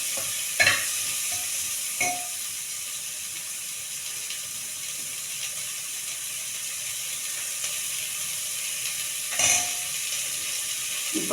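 Onions sauté in a pan with a continuous soft sizzle, broken by a few sharp scraping stirs of a utensil at intervals. No voices.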